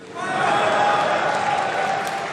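A large crowd at Éric Zemmour's political rally in Villepinte applauds steadily, a dense sustained wash of clapping that swells and holds for a couple of seconds.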